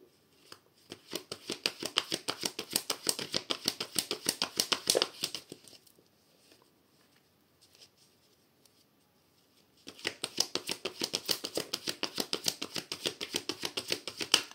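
Tarot cards are shuffled by hand in rapid, rhythmic riffling flutters, close and fairly quiet, in two long runs separated by a few seconds of near silence.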